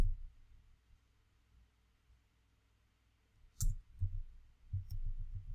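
A few sparse, light keystrokes on a computer keyboard in a quiet room, with short clusters of clicks after a long near-silent stretch over a low background hum.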